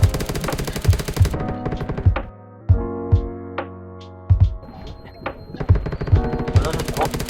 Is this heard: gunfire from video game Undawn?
yes